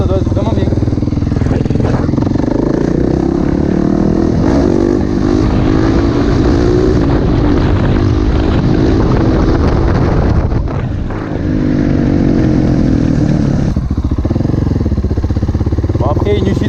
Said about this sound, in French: ça reste quand même un monocylindre de 700 hein, dans tous les cas, hein, c'est un 680 et quelques centimètres cubes